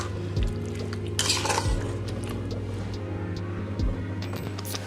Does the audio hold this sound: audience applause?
no